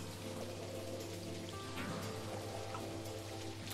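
Rain in the airport-building video game Airport CEO, a steady even patter of falling drops under a constant low hum, with no talk.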